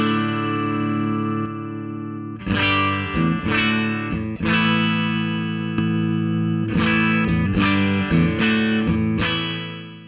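Electric guitar chords played through an Eagle compressor pedal with the blend raised slightly, a sustained tone followed by several strummed chords that ring out and decay smoothly, loud and close with no talking.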